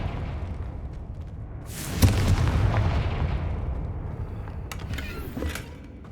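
A Confringo fire spell from Hogwarts Legacy explodes with a sudden loud boom that rolls into a long rumbling tail and fades, with a few sharp crackles near the end.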